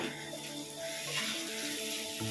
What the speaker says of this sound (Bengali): টমেটোগুলো ভাজা হয়ে গেছে।